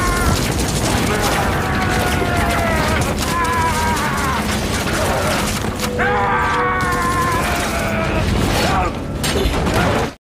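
A dense, loud mechanical clatter and rumble with bursts of crackling noise, an explosion scene in a Rurouni Kenshin film with blasts and debris, continuing for about ten seconds.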